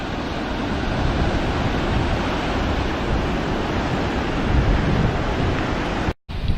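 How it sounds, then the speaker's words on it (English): Broad, steady roar of ocean surf rolling in on the Washington coast, mixed with wind buffeting the microphone, with a brief cut-out near the end. "Got some pretty good looking waves coming in down there right now."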